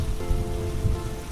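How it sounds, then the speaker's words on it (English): Steady rain patters on a surface in a dense, continuous wash, with low rumbling thunder rolling faintly beneath it. "the thunder and rain will linger a little longer"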